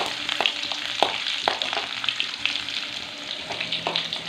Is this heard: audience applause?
no